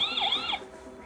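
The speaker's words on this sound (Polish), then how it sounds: "włączymy sobie jeszcze alarm. Dobra, alarm jest włączony." The alarm siren of an Inqmega solar 4G security camera wails loudly and close in rising and falling sweeps, then cuts off about halfway through, leaving faint room noise.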